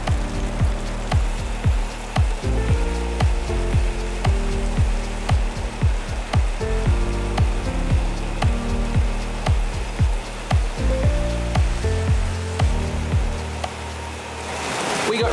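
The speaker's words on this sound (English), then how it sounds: "it's raining pretty heavily" Heavy tropical rain at Wat Umong temple in Chiang Mai, Thailand, a dense continuous patter on surfaces with rhythmic louder drips close by, steady throughout.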